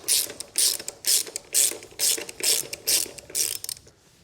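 A ratchet wrench loosens the brake caliper bolts on a 2023 Honda CB500X motorcycle. It gives about nine quick, close, loud bursts of clicking, evenly spaced, with no talking.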